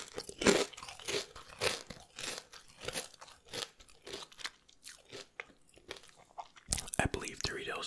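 Doom-branded Doritos tortilla chips crunched up close in whispered ASMR eating, with irregular sharp crunches and chewing bites spaced through the clip, interspersed with soft whispering.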